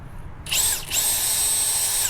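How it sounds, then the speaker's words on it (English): A power drill whirs as it pre-drills into wood, starting after a brief quiet moment, with a short dip in speed before running steadily at a high pitch. "And so pre-drill that in."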